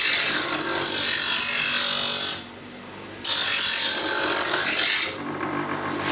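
A homemade blade sharpener grinds along a blade's bevel in a loud, harsh, continuous rasp, broken by two short pauses, the second resuming a little quieter.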